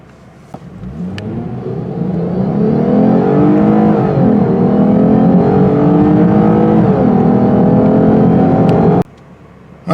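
A 2020 Lexus IS 350 accelerating hard from inside the cabin, its engine rising in a loud, swelling roar through several seconds of climbing revs before cutting off sharply near the end.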